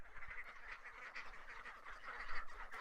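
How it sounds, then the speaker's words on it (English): Continuous honking and quacking from a group of waterfowl close by, a busy overlapping chatter with no pauses. "this is basically how the ducks carry on"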